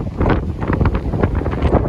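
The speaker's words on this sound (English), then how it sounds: "That is a gust of wind right there." A strong gust of wind buffets the microphone on an Arizona road trip between Sedona and Flagstaff, giving a loud, rumbling, fluttering roar that lasts the whole short stretch.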